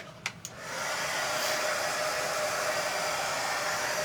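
A hair dryer blasts steadily to dry a wet craft transfer, starting after a couple of small clicks and then holding a loud, even whoosh.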